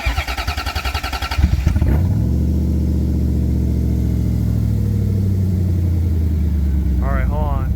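A repaired, flood-damaged Corvette ZR1 engine cranks briefly and catches, then settles into a steady, loud, close idle with a low rumbling drone and a faint whine near the end.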